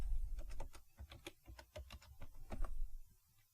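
A computer keyboard is tapped in a quick, irregular burst of close, soft keystrokes as a username and password are typed, with no one talking.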